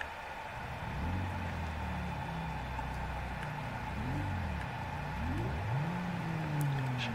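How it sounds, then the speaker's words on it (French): A small diesel car engine in BeamNG.drive comes to life at moderate volume, then rises and dips through several rev sweeps with whirring tones, and no one talks over it. "C'est un moteur diesel."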